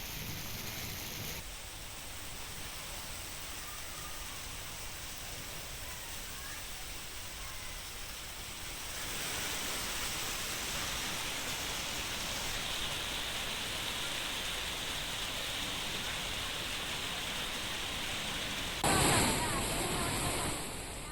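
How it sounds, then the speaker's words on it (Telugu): Dense, steady rain hiss fills a Hyderabad street, growing a little heavier partway through, with a brief louder burst near the end. "ఇటు హైదరాబాద్ వ్యాప్తంగా వర్షం కురుస్తోంది"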